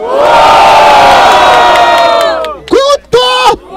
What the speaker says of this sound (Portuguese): Barulho para as rimas de Jaya Luke!